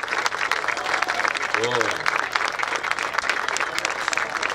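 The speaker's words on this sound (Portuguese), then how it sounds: "Para eles, uma salva de palmas." An audience at a national dance gala applauds new dancers, dense continuous clapping throughout, with a voice speaking briefly over it.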